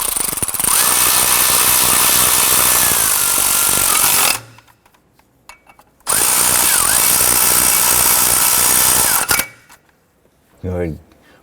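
Power tool snugging down EGR valve bolts on a 1993-1997 Ford Ranger, two loud sustained whirring bursts of about four and three seconds separated by a quiet gap, followed by a short clunk.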